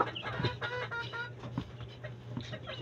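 A pure 5K Sweater gamefowl rooster clucks in a backyard, giving a few short, close clucks over a steady low background hum.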